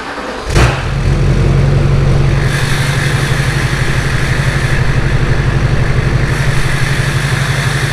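A Chevy truck engine with newly replaced fuel lines cranks and fires up, then settles into a loud, steady, rumbling idle close by, alone with no voices.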